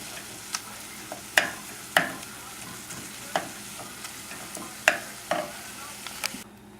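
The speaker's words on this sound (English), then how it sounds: "there's enough fat in that pan to saute the finely diced onions, garlic, and carrots" Finely diced onions, garlic and carrots sauté in beef fat in a pan, a soft steady sizzle broken by sharp scrapes and taps of a utensil being stirred about every second, close up, with no talking.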